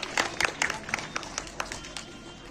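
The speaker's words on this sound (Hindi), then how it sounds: "तालियां।" At a school annual day and results ceremony, an audience applauds students with scattered, uneven clapping that fades and thins out toward the end.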